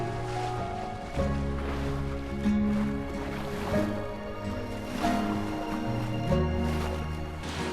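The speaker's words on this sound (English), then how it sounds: "Sailing along on a beam reach, 11 knots of breeze, doing 6 knots" A sailboat on a beam reach in about 11 knots of breeze at 6 knots, mid-Atlantic crossing: steady rushing water and waves along the hull, with a continuous tonal hum underneath.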